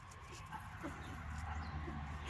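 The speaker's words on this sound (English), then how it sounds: "Our neighbor's dog barking at us." A neighbour's dog barks at a distance in short, soft yips, partly masked by steady outdoor background noise.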